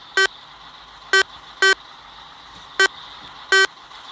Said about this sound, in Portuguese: Vamos dar uma buzinada.